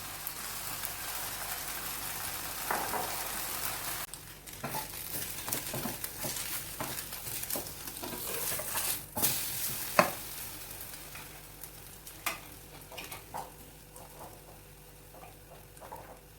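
French toast frying in a pan over a medium flame, a soft steady sizzle with scattered crackles and pops, plus a few louder clicks of a utensil against the pan near the middle.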